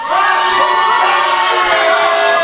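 Wrestling crowd at a rope match roars and shouts steadily, a dense wash of many voices with high children's yells, loud and continuous throughout.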